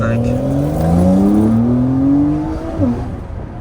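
A modified Porsche 911 Carrera 4S (992) with an 8-speed gearbox, its loud engine climbing steadily in pitch under acceleration close by, then dropping sharply as the revs fall near the end.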